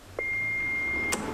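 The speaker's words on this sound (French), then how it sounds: "le motif de votre appel après le bip sonore" An answering machine gives a single steady electronic beep lasting about a second, with a faint click near its end, heard alone in a quiet room.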